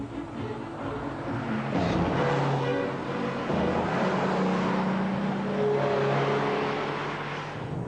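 A Rover car prototype drives along under test, its engine a steady close hum and drone with rising revving swells as it pulls with plenty of torque, continuous throughout.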